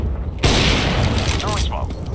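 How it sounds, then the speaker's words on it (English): A flashbang grenade goes off in Counter-Strike: Global Offensive on the Inferno map, a sudden loud bang followed by a sustained bright ringing hiss, close and dominant. "Throwing flashbang."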